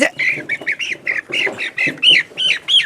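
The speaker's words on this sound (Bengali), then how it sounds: "এই যে মোরগের ফার্মের ভিতরে চলে আসলাম।" Loud, repeated squawking calls from several roosters close by inside a poultry farm, overlapping in an irregular chorus with no talk.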